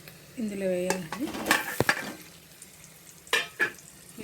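Egg pieces dropped into a hot pan for an egg fry crackle and frizzle, with a few clinks and stirring scrapes; a brief tonal voice-like sound rises early on.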